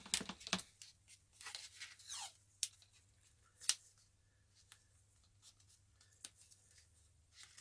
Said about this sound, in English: I'm just going to put a piece of electrical insulation tape around that